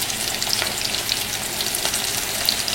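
Shrimp for popcorn shrimp fry in hot oil, giving a loud, steady, close sizzle with crackling pops throughout and no talk over it.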